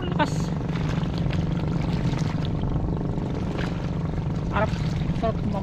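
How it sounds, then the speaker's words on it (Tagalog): A motorboat engine by the seaside drones steadily nearby in a low, even hum, with people talking over it. "Nung ano ah, bangkang-bangkang di motor,"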